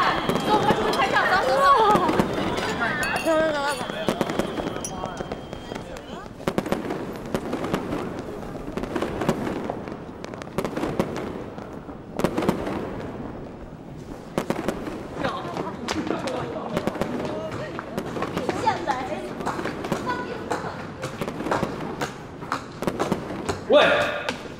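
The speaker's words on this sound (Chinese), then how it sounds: "哇，有人放烟花哎！" Fireworks burst continuously outside at a party, a long run of thumping booms and crackles in irregular rhythm, moderately loud, with people talking throughout.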